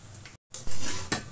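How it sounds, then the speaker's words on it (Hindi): Edible gum (gond) frying in hot ghee for a Sindhi sweet, a close crackling sizzle broken by a short silent gap and a few utensil scrapes, with no voices. "घी गरम हो रहा है, अब इसमें ये गोंद डाल देंगे, गोंद को थोड़ा फ्राई कर देंगे।"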